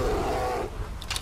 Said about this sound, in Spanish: Un puto oso.